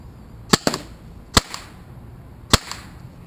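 A Tiberius Arms 8.1 paintball marker fires a few sharp, close pops: a quick double shot, then two single shots spaced about a second apart, with quiet gaps between.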